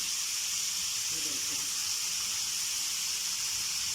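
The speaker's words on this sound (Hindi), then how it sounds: "इसके बाद हम इसमें ऐड कर देंगे जी ये हमारी कलेजी है। तो इसे करेंगे ज़रा हल्का सा मिक्स।" Beef liver (kaleji) cooking on a hot tawa gives a steady, close sizzling hiss that runs evenly throughout, with no distinct stirring knocks standing out.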